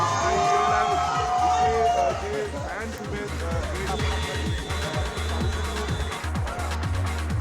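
A crowd cheers and whoops in Delhi as Team India, the cricket squad led by Rohit Sharma, arrives after winning; loud, sustained jubilant roar with babble and passing vehicle noise, under a reporter's voice.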